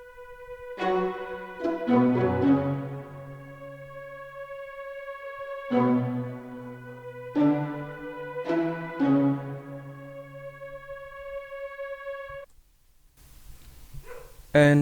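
Layered orchestral samples for a hip hop soul beat: violin spiccato, pizzicato and a sustained pad, playing plucked and bowed note clusters in several phrases, alone, with a brief different texture at the very end.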